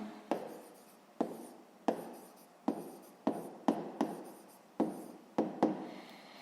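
A hand writes out a sixth-grade math equation solution, with crisp pen strokes coming in short, regular bursts close up and no talking.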